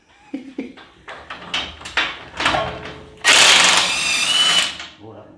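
A power tool bursts loudly for about a second while torquing a bolt on a Jeep Wrangler JK track bar bracket fitted with blue Loctite, preceded by scattered clicks and rattles of handling parts and tools.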